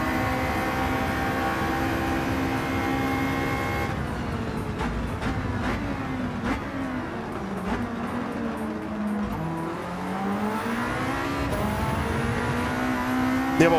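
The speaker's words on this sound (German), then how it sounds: "Das ist der Wahnsinn, wie das Auto hier in die Kurve geht." A Mitsubishi Lancer Evo 9 race car cornering in Gran Turismo 7, its engine droning loud and close, with repeated gear shifts and rising and falling revs through the turns.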